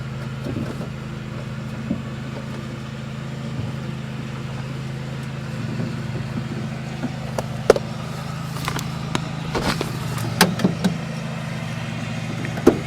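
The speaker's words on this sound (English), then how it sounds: "I apologize for the lawnmower in the background." A lawnmower engine drones continuously in the background, with scattered clicks and handling noises close by.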